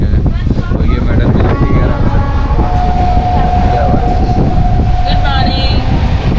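A train rolls from Haldwani toward Kathgodam station in the Uttarakhand foothills, with a steady loud rumble and rattle of wheels and carriages plus wind buffeting, and a drawn-out tonal squeal partway through.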